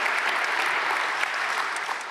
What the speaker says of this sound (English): We love a good applause.